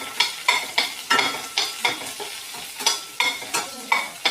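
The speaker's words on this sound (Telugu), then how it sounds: "కొంచెం బ్రౌన్ కలర్ వచ్చినంత వరకు వేగనిద్దామండి ఉల్లిపాయలు" Sliced onion frying in a pan for bottle gourd dal, with steady rhythmic stirring strokes, about a dozen, scraping through a continuous close sizzle.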